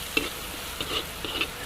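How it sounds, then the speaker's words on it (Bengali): Onions and green chilies frying in leftover hilsa fish oil in a clay pot, a steady soft sizzle broken by a few spatula strokes stirring the pan, close and moderately loud. "পেঁয়াজ আর কাঁচামরিচ আমি সুন্দর করে ভেজে নেব হালকাভাবে।"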